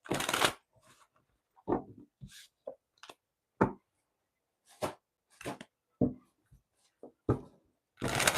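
A tarot card deck being shuffled by hand produces intermittent, crisp riffling bursts and soft taps separated by short quiet pauses, close and fairly quiet with no talking.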